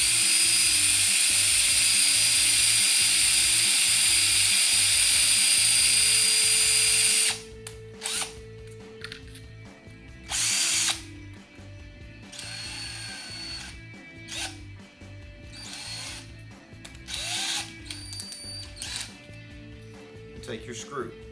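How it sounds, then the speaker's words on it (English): A power drill bores a pilot hole into pallet wood for a pedalboard's support sides, a loud steady high whine for about seven seconds, then shorter whirring bursts and scraping handling noise. "When you're screwing your holes in on your support sides, take the time to drill a pilot hole."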